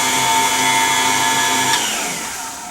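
An electric mixer churns chocolate cake batter at low speed, giving a steady, close motor whine that shifts slightly in pitch late on and then eases down.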